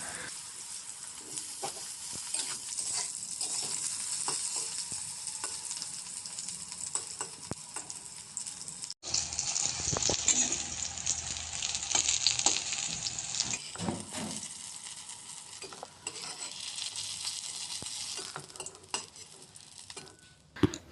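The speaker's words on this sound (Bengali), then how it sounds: "ওই একই তেলে বেগুনগুলোকেও ভেজে নেব।" Eggplant pieces fry in oil in a kadai, a continuous sizzle with occasional utensil clinks and stirring scrapes, one brief break midway, then the frying resumes louder.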